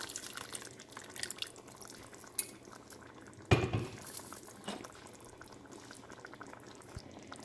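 Fish curry kulambu simmers in a pot with soft, faint bubbling and dripping, broken by a louder clatter of a utensil against the pot midway and a few lighter clinks.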